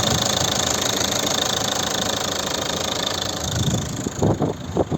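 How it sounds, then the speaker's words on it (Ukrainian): A 2008 Volvo V50 2.0 diesel engine idles steadily with a rough, knocking rumble throughout, close by; a few louder clattering bursts near the end. "Ось робота двигуна"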